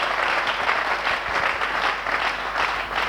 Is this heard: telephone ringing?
no